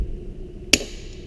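A single sharp metallic click as a rivet is squeezed off on a sheet-metal riveted corner seam with an inside lap, a brief snap over a quiet background hum.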